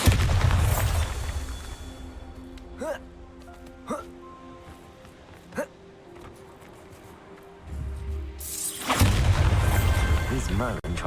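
Repeated Bombarda spell blasts in the video game Hogwarts Legacy land as short booming bursts spaced a few seconds apart, followed by a louder, longer rumbling explosion near the end, with a voice casting the spell.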